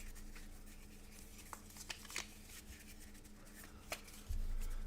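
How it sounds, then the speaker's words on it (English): A deck of board game cards being shuffled by hand, quiet riffling and several sharp little snaps and clicks, ending in a louder low thump. "And these just shuffle pretty easy."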